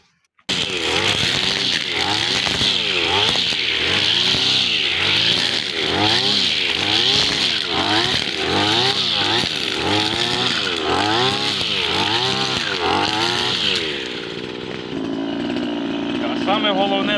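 A string trimmer with line mows weeds among potato plants in a garden, running as a loud, steady engine drone that pulses rhythmically as the head sweeps back and forth, then eases slightly near the end.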